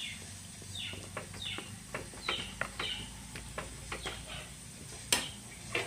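Salted bitter gourd (bhat kerela) stirred in a frying pan: quiet, repeated light scrapes and clicks about every half second over a faint low sizzle.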